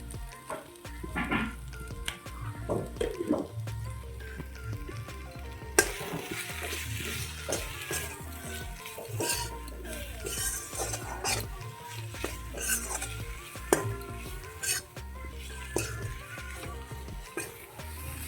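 Spices being sautéed and stirred in a pan for a Bengali egg curry: a soft continuous sizzle with frequent metal spoon scrapes and taps against the pan, growing brighter partway through, close and without speech.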